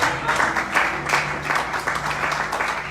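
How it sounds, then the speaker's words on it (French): A church congregation applauds and cheers for Jesus Christ, a dense burst of many hands clapping steadily for a few seconds in a large room. "est-ce que tu peux acclamer Jésus-Christ?"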